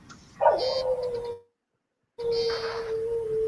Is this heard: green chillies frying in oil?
no